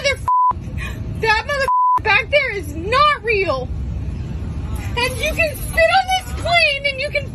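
Series of electronic beeps, steady tones and warbling chirps cut in and out in quick bursts, loud and close, with a voice speaking over parts of it.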